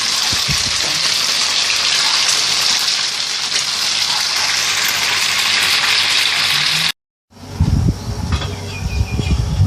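Soft tofu fries in hot oil in a pan, a loud, dense sizzle that runs steadily, drops out for a moment, then returns with crackling pops.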